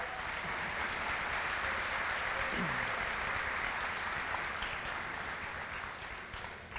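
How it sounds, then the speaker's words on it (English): Applause from an audience at a middle school promotion ceremony, a broad steady wash of many hands clapping at a distance in a large room, sustained throughout and fading slightly at the end. "Guys, you can applaud."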